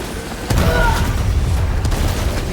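A bomb goes off in Helldivers 2: silence breaks into one heavy, close boom about half a second in, then a loud rolling rumble and scattered crackle keep going to the end.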